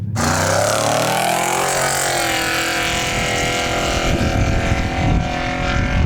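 A trophy truck's engine revs hard and loud in the desert, a sustained roaring drone that builds as it pulls away, with no voices over it.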